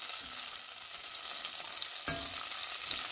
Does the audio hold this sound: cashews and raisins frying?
yes